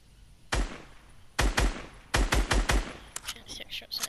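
Several sharp gunshots from a video game fight ring out in short bursts, a single crack followed by rapid clustered volleys of five or six shots, loud and close with brief silences between.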